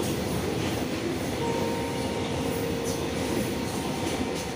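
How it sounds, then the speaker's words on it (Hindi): A train passes close by, a steady rumbling roll of wheels on rails with a faint metallic squeal, continuous and fairly loud throughout. "ट्रेन निकलेगी, निकल रही है।"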